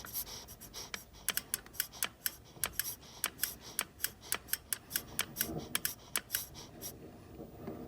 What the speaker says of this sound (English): Hopefully you'll be able to hear if there's a little clicking coming from there.